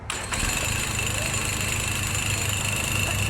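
A turbo diesel engine on a John Deere motorcycle runs with a steady, low, chugging drone, close and continuous, with faint voices talking beneath the mechanical hum.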